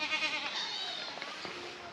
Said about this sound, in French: Mais ouais du coup 4 chèvres, enfin 3 chèvres et un bouc je suppose.